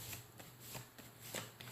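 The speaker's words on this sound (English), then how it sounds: "Shuffle it up." A deck of tarot cards is shuffled by hand nearby, a quick run of soft riffling flutters with crisp slaps at the end of each pass, heard without any talking.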